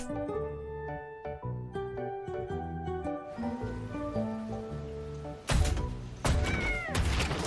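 A cat in the video game Wuthering Waves gives a few meows over light tinkling music and a soft rain-like patter, and then brighter louder game sounds burst in near the end.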